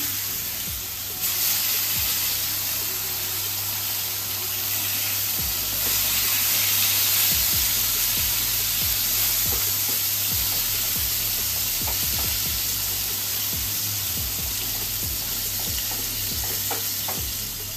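Eggplant slices coated in turmeric and salt fry in oil, a constant loud hissing sizzle close by with scattered pops and spatters throughout.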